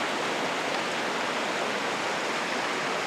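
Gold Creek in Golden Ears Park rushes past the bank in an even, unbroken hiss of flowing water, fairly loud and close.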